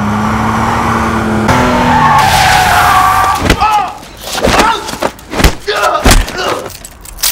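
In a Korean gangster film car chase, a car engine revs and climbs loudly, then tires squeal and skid, followed by a series of sharp thumps and bursts of motion noise.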